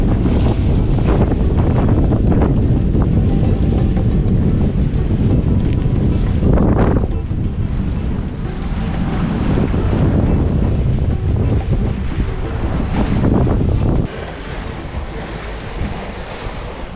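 Used sailboat under way in the Mediterranean, with loud, constant wind buffeting and rushing waves and surf against the hull throughout, easing slightly near the end.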